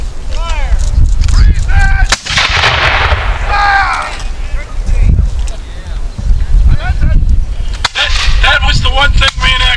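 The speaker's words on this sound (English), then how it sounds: "Now remember, these are the smallest cannons used." Small cannons fire at a reenactment of the 1781 Battle of Petersburg, Virginia, giving sharp booming cracks. A crowd talks and calls out continuously over and around the shots.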